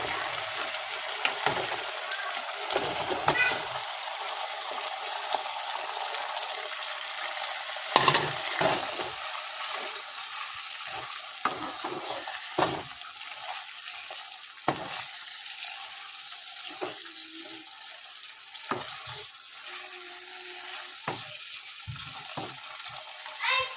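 Prawns cooking in a yogurt masala curry sizzle steadily in a pan, with a continuous frying hiss broken by intermittent clinks and scrapes of a utensil and brief soft pauses, close and moderately loud, with no talking.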